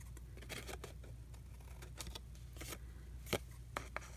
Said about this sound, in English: I'm just going to do it with my scissors.